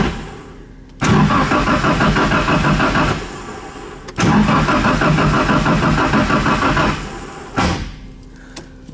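An SR20DET-swapped Datsun 510 cranks and fires, running loud and close in two long bursts with a brief cutoff between, then dropping away near the end.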